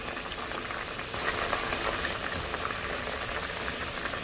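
A coconut drops mixture of brown sugar boiling in a pot on medium to high heat, after about 35 minutes of cooking, gives a steady, continuous bubbling hiss with no talking.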